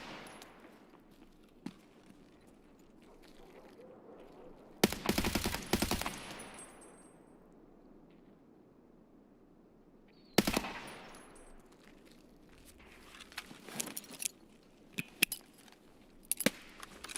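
Bursts of automatic rifle fire in Escape From Tarkov, with a long loud volley, a sharp second burst and scattered single shots after, loud and close with no voices.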